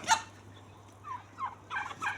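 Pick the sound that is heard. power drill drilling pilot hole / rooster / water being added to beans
rooster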